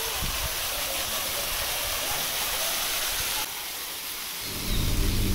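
A waterfall at the Bukittinggi zoo bird park pours with a steady, broad hiss of falling water, close and unbroken throughout.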